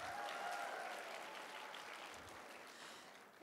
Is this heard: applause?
yes